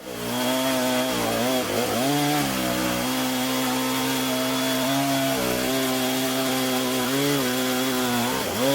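A chainsaw mill rides along aluminum ladder guide rails while cutting through a log. The engine drones loud and close without a break, its pitch dipping and recovering as the chain bites into the wood.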